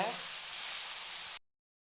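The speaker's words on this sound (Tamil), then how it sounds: "நறுக்கி வச்சுருக்க கத்திரிக்காய் அது கூட போட்டு நல்லா வதக்கி விட்டுக்கோங்க" Steady sizzling of eggplant sautéing in a hot pan, a bright continuous hiss that cuts off abruptly.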